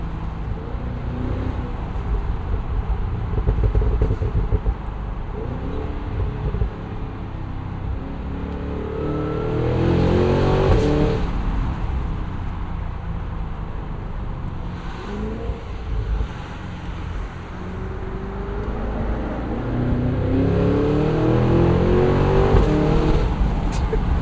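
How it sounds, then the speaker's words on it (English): Supercharged V8 of a 2025 Cadillac Escalade V SUV, 682 hp with a 10-speed automatic, revving and pulling hard in repeated rising surges with quick shift breaks, loud and close throughout. "Shifts from this 10-speed automatic are so rapid."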